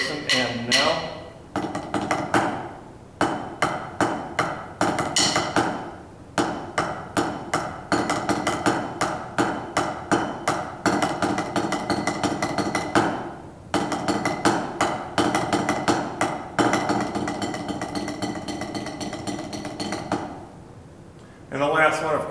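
Percussion exercise from a symphonic band method book, played solo as a run of sharp repeated strikes in a steady rhythm, clear and close, with brief pauses between phrases and a longer held final note.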